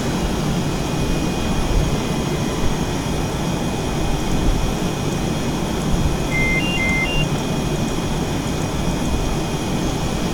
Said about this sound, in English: let me go ahead and shut down the aircraft